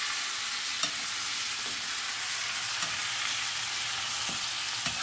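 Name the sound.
eggplant chili paste (vankaya karam) frying in pan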